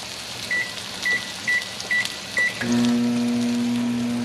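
A microwave oven beeps five times in even succession, then a steady mechanical hum starts as it begins running, close and clear.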